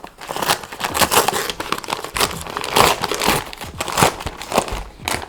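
Plastic-and-foil wrapping of a 2018 Canadian IMP field ration, Menu 4, is ripped open by hand, giving a run of loud, close crinkling and tearing bursts that repeat in quick, uneven pulls for several seconds, with no talking.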